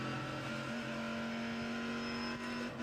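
A race car engine in a racing simulator, heard as a steady, loud, tonal drone with the pitch stepping down partway through as it downshifts.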